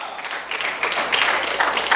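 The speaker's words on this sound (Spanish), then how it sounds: "Esto se merece una ofrenda de aplauso al Señor." A church congregation claps in applause, a dense, sustained patter of many hands that grows louder partway through and continues to the end.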